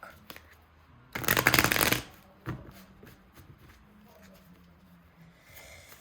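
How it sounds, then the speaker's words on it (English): A deck of tarot-style cards is shuffled in one loud riffling burst of about a second, followed by a short flick and soft handling sounds in an otherwise quiet room. "I'm going to pull one card from this deck."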